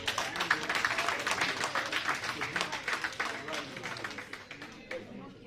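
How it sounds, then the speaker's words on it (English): Crowd applause and cheering at a political rally for a parliamentary candidacy declaration, a dense, rhythmic wash of clapping that fades slightly toward the end amid crowd voices. "Please give him a big round of applause."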